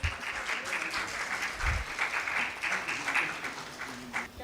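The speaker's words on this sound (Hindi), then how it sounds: "जोरदार तालियां" Loud, steady applause from a crowd fills an award ceremony as a memento is presented, with individual claps blending into a continuous wash that swells and eases slightly.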